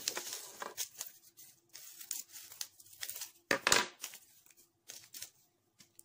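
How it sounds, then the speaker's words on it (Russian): Scissors snip open a paper packet of bell pepper seeds, giving a few crisp cuts and crinkles with small rustles between them, close and fairly quiet with no talking. "Разрезаем пакетик с семенами."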